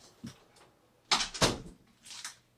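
An indoor door is pushed shut, giving a couple of sharp knocks and a thud near the middle, with quieter handling clicks before and after.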